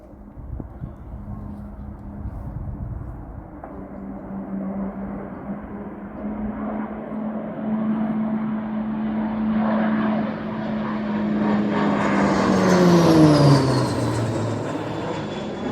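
A Texan propeller aircraft flying low through the Mach Loop, its engine drone building steadily from a distance to a loud, close pass with a falling pitch sweep as it goes by.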